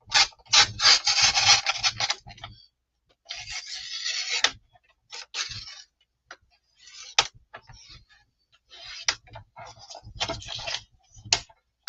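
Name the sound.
cutting book board while making a journal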